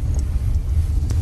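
Car driving on a rough gravel F road in Iceland, a loud continuous low rumble from inside the vehicle with small knocks from the uneven surface, no talking.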